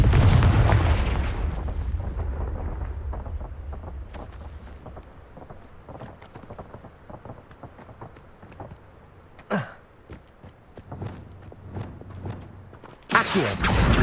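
Confringo blasting spell explosions in Hogwarts Legacy set off heavy, rumbling booms at the outset, followed by scattered smaller pops and cracks and a final loud burst near the end.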